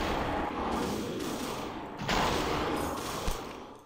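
Rapid gunfire bursts and booms crackle through a dense, loud action scene in the video game Superhot, with sharp impacts standing out and no speech.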